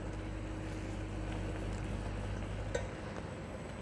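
Risotto rice cooking in a pan, a steady low sizzle and bubbling simmer that holds evenly throughout, with a faint clink near the end.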